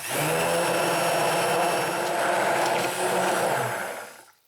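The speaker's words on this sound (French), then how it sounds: "Et maintenant la prochaine étape, ça va être de mixer tout ça." A blender whirs loudly and steadily as it mixes a homemade vegan, sugar-free ice cream base, holding a dense motor roar for about four seconds before winding down and cutting off.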